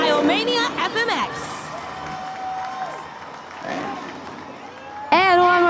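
A stadium crowd at a Monster Jam Freestyle Mania FMX event in Buffalo, NY, roaring and cheering in swelling waves beneath an announcer's booming amplified voice.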